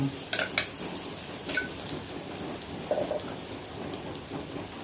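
Pounded spice paste for a Thai beef stir-fry with holy basil sizzles in a hot pan with a steady, hissing crackle. A few clinks of utensils on the pan rise above it early and near the middle.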